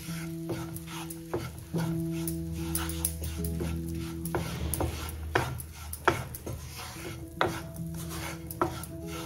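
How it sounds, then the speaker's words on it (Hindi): Flour roasting in ghee for potato garlic rings, stirred in a pan with a steady soft sizzle, frequent scraping and knocking of a utensil against the pan, and a low steady hum underneath. "हम अच्छे से अभी घी में मैदे को भून लेंगे"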